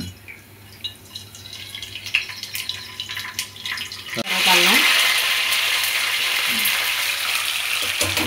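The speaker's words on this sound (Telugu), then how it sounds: "వీటిని బాగా కొంచెం ఫ్రై చేసుకోవాలి ఆయిల్లో." Curry leaves and chopped garlic go into hot oil and burst into a loud, steady sizzle up close after a quieter stretch of faint kitchen noise.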